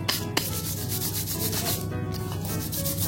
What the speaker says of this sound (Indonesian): Nah ini teman-teman, kita coba amplas